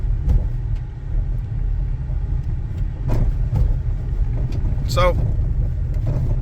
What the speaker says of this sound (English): Go over a couple of speed bumps, over some real broken up stuff, and we'll hear that suspension working.